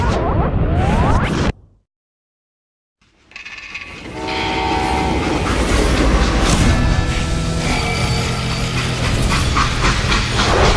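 Train in the Western video game Call of Juarez Gunslinger: a loud, steady rumble of rolling freight cars with a shrill whistle and hissing steam, after a brief dropout to silence near the start.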